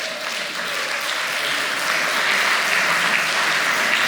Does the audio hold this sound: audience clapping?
yes